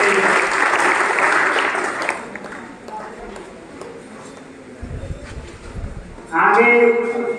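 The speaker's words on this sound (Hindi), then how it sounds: "जोरदार ताली बजाएंगे।" Loud audience applause at a students' felicitation ceremony in a coaching centre, dense clapping for the first two seconds, fading into murmuring crowd noise, then a fresh burst of clapping near the end.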